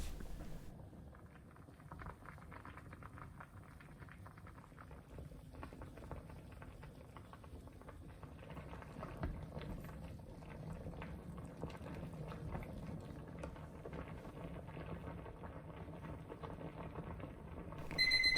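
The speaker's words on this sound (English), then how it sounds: "Drop noodles into the boiling water." Noodles boiling in a pot of water on a stove, a steady low bubbling and simmering roar that holds evenly throughout, moderately faint and close, with no voices.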